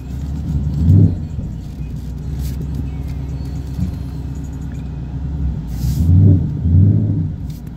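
A Ford Mustang GT reverses slowly, its engine giving a low steady rumble with two soft swells of revving, heard from inside the car.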